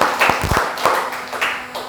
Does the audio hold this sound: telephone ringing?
no